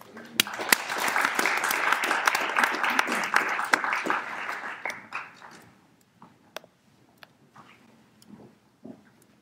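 An audience claps warmly to welcome a speaker at a talk, dense applause for about five seconds that thins into scattered claps and fades to quiet.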